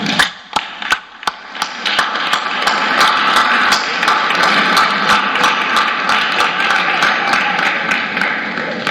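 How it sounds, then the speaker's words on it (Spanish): Applause for Teletón at a morning press conference in the National Palace: a few sharp claps, then dense, steady clapping from a small crowd that keeps going to the end, close and loud. "Y un aplauso a Teletón."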